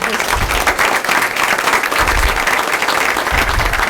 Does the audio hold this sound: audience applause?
yes